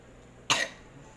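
A single short, sharp cough close by, alone against a quiet background.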